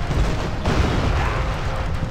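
Cannon fire and explosions in a shooting video game, heard as a dense, loud roar of booming blasts that runs continuously with no talking.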